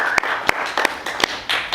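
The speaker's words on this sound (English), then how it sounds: "Let's give her a little round of applause," A handful of sharp claps ring out in a loose, uneven scatter, like a small group applauding briefly.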